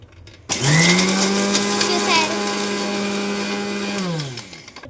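Mixer grinder running with its lid on, grinding a biscuit mixture: a loud close motor whine that starts abruptly, holds steady for about three and a half seconds with some rattling, then winds down as it is switched off.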